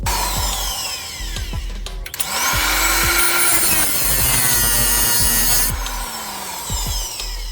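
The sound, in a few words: cutting a seized nut on a Toyota sway bar link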